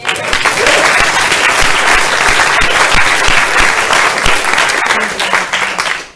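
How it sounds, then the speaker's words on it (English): A crowd at a climate forum breaks into loud, sustained applause, a dense wash of clapping that holds steady and fades only at the very end. "First, let's give Lila a massive round of applause"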